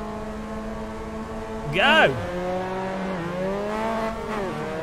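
A pack of race cars revs at the start of an Assetto Corsa race, steady engine drones swelling into a sharp, loud rising whine about a second long before settling back to a busy hum, with a voice shouting briefly over it.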